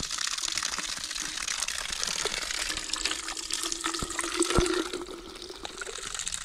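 Water runs from a campground tap into a water bottle. It makes a steady, close splashing gush that holds throughout and rises slightly toward the end.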